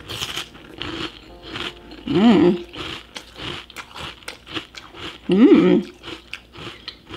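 Low carb Magic Spoon cereal with milk crunched close to the mouth in bursts of chewing, with two louder crunchy bites and brief murmured sounds between them.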